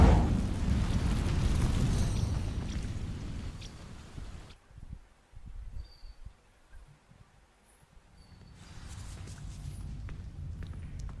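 An Incendio fire spell sets dry vines ablaze in the Hogwarts Legacy video game: a loud, rushing roar of flames for several seconds drops away abruptly into near quiet, then a soft ambient rumble slowly returns.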